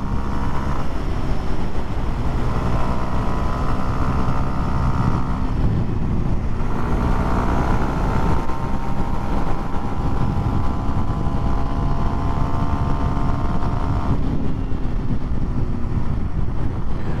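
A 2023 Kawasaki KLX230SM single-cylinder motorcycle pulls hard at full throttle, its engine note rising through gears with a brief dip between, heavily mixed with loud wind rush from riding at speed.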